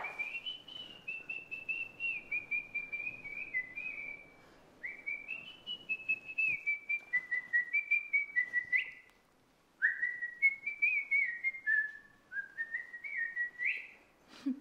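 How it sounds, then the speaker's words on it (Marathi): A person whistling a song, a clear melodic tune in a series of steady phrases with short pauses between them, close and alone with no other sound. "मग मी तिला शिट्टीत गाणं म्हणतो"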